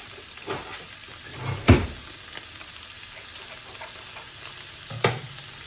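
Ground beef frying in a pan as a packet of taco seasoning is stirred in, giving a steady low sizzle broken by a few scraping stirs, one louder clunk near the middle.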